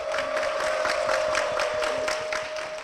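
A church congregation claps to welcome deaconess Kwon Sun-ok onstage at Korean church 주님의교회. The steady, dense clapping fills the whole stretch over a constant thin electronic tone, with no speech.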